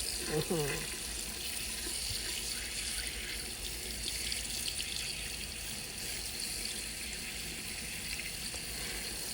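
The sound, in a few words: washing and cleaning fish under running tap water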